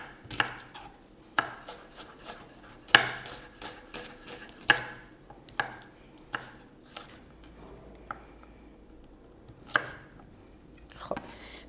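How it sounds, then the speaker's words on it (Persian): Onions chopped by knife on a cutting board: sharp, close knocks in irregular bursts, some quick runs of strokes and isolated single chops, against a quiet background with no speech. "لذت بخش ترین بخش های آشپزی همین خرد کردن سبزیجات روی تخته است."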